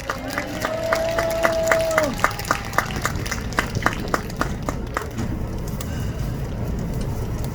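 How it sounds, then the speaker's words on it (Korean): A crowd at a church gathering in front of the Seocho-dong court claps to welcome a pastor, a steady rhythmic beat of many hands at moderate distance, with a brief sustained tone early on. "박수로 환영하겠습니다"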